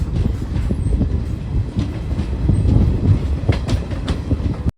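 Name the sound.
Villupuram Intercity Express train running on curve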